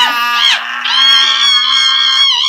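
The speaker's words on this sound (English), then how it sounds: "Start screaming, and don't stop." A sustained, piercing human scream rising and wavering in pitch, loud and continuous for about two seconds with a brief dip partway through, alone without other sounds.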